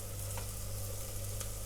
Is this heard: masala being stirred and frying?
yes